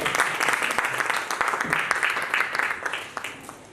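An audience at a Kalam Agra talk event gives sustained applause, dense clapping that swells and fades slightly, heard from within the hall.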